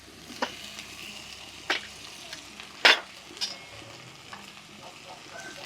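Tomatoes fry in a pan for a prawn and keerai greens dish, giving a steady close sizzle broken by several sharp scrapes and clinks of stirring.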